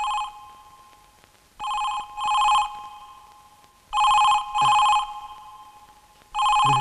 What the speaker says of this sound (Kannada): ಯಾರಾದ್ರೂ ಫೋನ್ ತಗೊಳ್ಳಿ